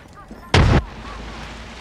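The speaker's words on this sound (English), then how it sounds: "Grenade out." A grenade goes off in the video game Apex Legends as a single sharp, loud burst lasting a quarter second. Faint game sounds continue around it.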